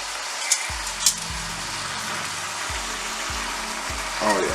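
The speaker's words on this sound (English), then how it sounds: "We can give this a nice little quick stir again." Garlic sauce sizzling in a pan, with a steady frying hiss and the scrape and clack of a spoon stirring through it several times, close and without talk.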